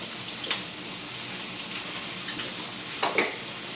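Country fried potatoes sizzle in a pan: a soft, steady frying hiss, fairly quiet and close, broken by a few brief utensil clinks.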